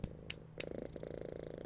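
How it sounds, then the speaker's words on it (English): A cat in the video game Amazing Frog purrs in a soft, rapid, rhythmic rumble, close and quiet, broken by a couple of brief brighter blips. "I see the cat."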